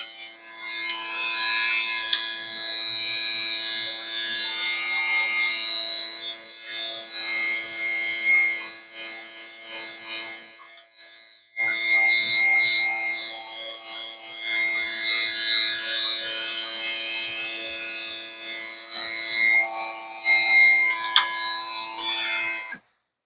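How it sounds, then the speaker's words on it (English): A small airbrush compressor runs steadily while a fishing crankbait is sprayed, a close, constant buzzing hum with hissing air bursts, briefly cutting out midway before resuming, with no talking. "This little compressor that I'm using on this airbrush gun is a little loud."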